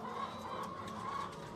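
Caged hens in a crowded battery-cage setting cluck and murmur in a low, continuous chorus, with a few sharper calls rising over the steady din.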